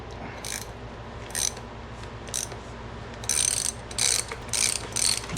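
A ratchet wrench works on a spinning suspension bolt on a BMW X5. Crisp ratchet clicks come in short repeated bursts, close up, a couple of early strokes and then four quicker ones near the end, with no talking.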